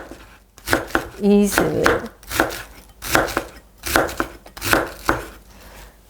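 A knife chops mandu filling on a cutting board in a quick run of sharp, close strokes, with a person speaking between the cuts.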